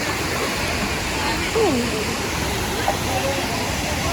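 Waterfall water rushes steadily with strong pressure on a trip in Kodai, a loud continuous wash close by that runs without a break, while a voice murmurs faintly beneath it.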